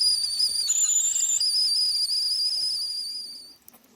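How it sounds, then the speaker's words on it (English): A Kelly Kettle whistles as its water comes to the boil on a wild camp on Dartmoor, a loud steady high-pitched tone that steps up in pitch partway through, then fades away near the end. "And the whistle going."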